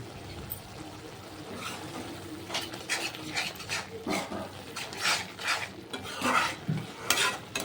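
Fish curry masala with chili powder cooks in oil, giving soft bubbling sizzle broken by irregular stirring scrapes and pot clatter, fairly close and moderately loud.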